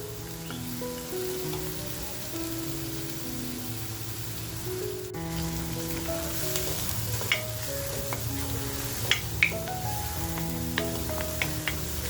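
Onion frying with asafoetida in hot oil in a home kitchen pan, a steady soft sizzle with occasional light stirring scrapes and spatters, no voices.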